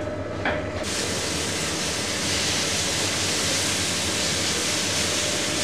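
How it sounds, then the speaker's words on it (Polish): Roast meat frying in a pan for solyanka gives a loud, dense, continuous sizzling hiss that holds steady throughout, with a brief clatter near the start and no voices. "Musimy to dobrze wszystko podsmażyć."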